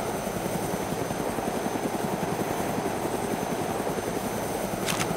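In the Arma 2 DayZ Mod game, a helicopter's rotor chops in a fast, even rhythm over a low engine drone, holding steady and fairly close throughout, with no talking.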